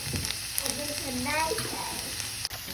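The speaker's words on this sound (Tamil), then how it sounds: "இப்போ ஒரு பேனை நல்லா ஹீட் பண்ணிக்கிட்டு அதில் வந்து ஒரு 7 8 பல்லு பூண்டு வந்து நல்லா நறுக்கி வச்சுருக்கேன்" Seven or eight chopped garlic cloves sizzle and fry in a hot pan, a steady crackling hiss with a few stirring clicks and a faint voice underneath.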